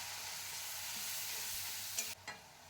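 Cumin powder and spices sizzle lightly in hot oil for a rohu fish kalia curry, a steady close hiss of frying followed by a couple of brief stirring scrapes at the end.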